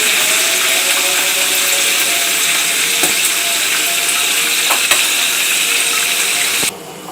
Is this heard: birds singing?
no